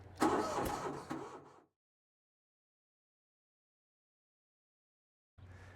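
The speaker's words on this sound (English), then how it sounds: "now you're ready to start the engine" An Equipter 7000 engine cranks and catches, a brief burst of starter noise and turnover, then cuts off into silence before faintly resuming near the end.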